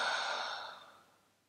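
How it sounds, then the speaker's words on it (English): A single long exhale during a breathing exercise, a soft breathy rush of air that starts fairly strong and fades away over about a second and a half, close and alone. "Breathe out."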